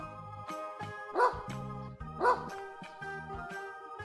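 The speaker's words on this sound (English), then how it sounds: "A dog says, ruff, ruff." A dog barks twice, short and fairly close, over soft background music in a children's animal-sounds lesson.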